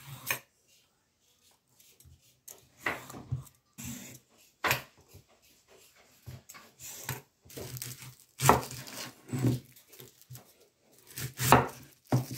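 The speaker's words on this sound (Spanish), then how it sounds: "Y seguidamente cortamos en dados todas las verduras." A knife dices peeled onion, carrots, pumpkin and zucchini on a cutting board. Irregular clusters of sharp, close chopping thuds are separated by short pauses.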